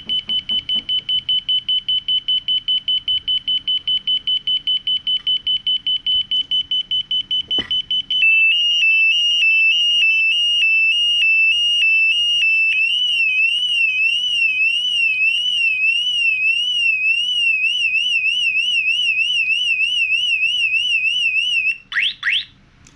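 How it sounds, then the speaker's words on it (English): A bike alarm, triggered by jostling, chirps in rapid, evenly spaced beeps, then switches to a loud, continuous warbling siren tone that cuts off abruptly near the end. "then the alarm will sound."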